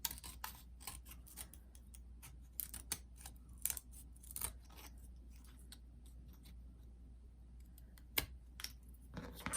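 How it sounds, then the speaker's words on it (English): Spring-loaded craft scissors snip around the edge of a Christmas craft piece, trimming off excess: a close, irregular run of sharp clicks and snips, quiet between cuts, with no talking. "I go around the edge and cut all of the excess off"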